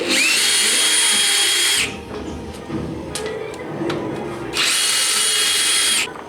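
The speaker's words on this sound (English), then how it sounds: "I busted out the drill." Power drill used in a shop to clean packed cow dung from a rock bouncer's skid plate, two loud whining runs of about two seconds each with scraping and clunks between them.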